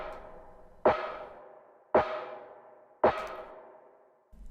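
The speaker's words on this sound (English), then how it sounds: "So let's listen to the cowbell with the snare." A cowbell layered with a Cymatics snare sample hits three times at an even pace, each strike a sharp, punchy attack followed by a long ringing decay, alone with no voices.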